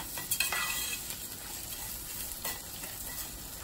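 Rice sizzles steadily in a hot pan while being stirred and lightly toasted to a pale golden colour for white rice, with a few soft scrapes and clinks of the utensil near the start.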